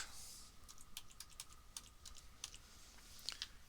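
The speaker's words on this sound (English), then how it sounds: "I'm going to type in my email and my password" Computer keyboard typing as an email address and password are entered, a fast steady patter of light key clicks close up over a faint room hum, no talk.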